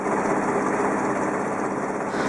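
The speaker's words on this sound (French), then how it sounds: "Il y a un son de bateau à moteur qui remonte la rivière du Mekong." A motorboat engine going up the Mekong River drones steadily and loudly, a constant low rumbling hum that holds without pause throughout.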